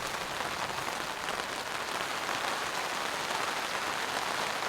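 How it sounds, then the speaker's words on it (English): Heavy storm rain pounds a four-season tent in a steady, dense roar, loud and close throughout with no voices. "the rain is so loud."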